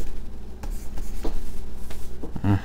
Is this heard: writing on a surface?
yes